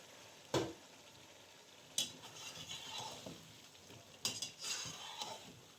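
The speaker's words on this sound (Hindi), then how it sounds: "अब मैं डालूंगी इसके अंदर चिकन" Chicken goes into a pot of softened tomatoes for a lemon korma and is fried and stirred, with a soft sizzle under several sharp clanks of a spoon against the pot.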